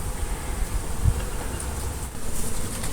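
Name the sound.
bee swarm buzzing in a hive box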